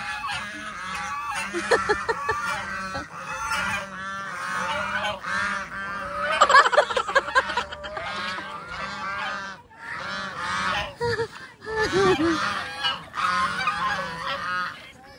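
Geese honk loudly and repeatedly nearby on a rural farm, a noisy chorus of overlapping nasal calls in bursts, with faint voices mixed in.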